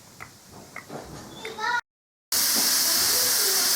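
Steam rushes from a canner during salsa canning as a loud, steady hiss that starts abruptly after a short silence, following soft voices and small background noises.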